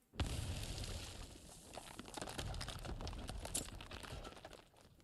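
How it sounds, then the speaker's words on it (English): A frag grenade explodes in the Arknights video game as a loud, sustained, crackling blast. Dense noise fills about five seconds with scattered sharp pops before it tails off, with no talking. "Frag grenade out!"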